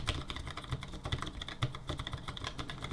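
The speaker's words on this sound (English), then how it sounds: "These are called Cherry ML switches. They kind of sound like browns." Rapid typing on an old keyboard with Cherry ML switches, crisp uneven clicks and clacks in close succession, near and fairly quiet, with no voices.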